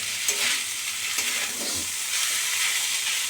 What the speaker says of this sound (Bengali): থোড়টা দিয়ে একটু নাড়াচাড়া করে নিতে হবে ভালো করে